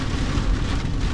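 Steady rain and gusting wind in a mountain storm high in the Lake District, a dense, continuous rush with a low rumbling undertone and no voices.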